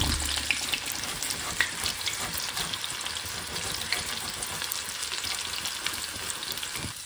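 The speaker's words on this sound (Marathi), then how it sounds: "अशा प्रकारे हा खिस आपण तळतो आहोत" Shredded raw banana fries in hot oil for chivida, a dense, continuous bubbling sizzle with crackling pops, close and steady throughout.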